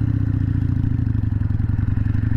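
A carbureted 2003 anniversary Harley-Davidson Sportster 883 with stage one/two air cleaner and pipes idles steadily nearby, a loud, continuous low rumble with a rapid even pulsing beat and no talk.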